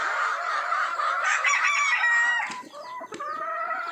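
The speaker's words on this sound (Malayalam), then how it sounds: "ആ മൂലയ്ക്ക് ഇരിക്കുന്ന കോഴികളെല്ലാം മുട്ടയിടാൻ വേണ്ടി ഇരിക്കുകയാണ്" Several BB38 hens cluck and crow continuously in a farm shed, close and fairly loud, with overlapping calls and a few sharper squawks near the end as they sit waiting to lay.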